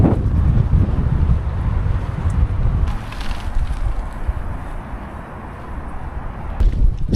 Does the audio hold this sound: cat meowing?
no